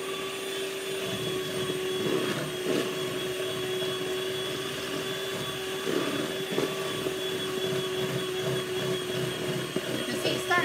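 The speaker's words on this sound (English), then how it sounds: "Be careful when you turn the mixer on if you're going to whisk it, as icing sugar has a tendency to fly everywhere." An electric mixer whisks icing sugar into a paste, giving a steady whirring motor drone with a fixed tone that stays at moderate loudness throughout, with faint rattling and scraping underneath.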